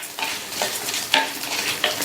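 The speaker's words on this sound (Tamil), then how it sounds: "3 நிமிஷமாக வதங்கிருச்சு." Small onions, chillies and curry leaves sautéing in a pan for a drumstick-leaf thuvaiyal, with a steady close sizzle and bright scraping stirs from a spoon against the pan every half second or so.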